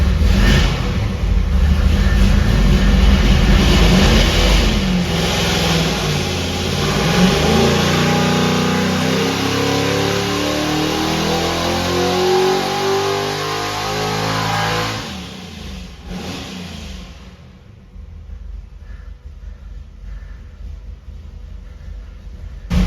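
An engine revs hard under load during a pull on a water brake dyno, a loud sustained roar rising in pitch for about fifteen seconds before cutting off abruptly to a quieter, lower idle.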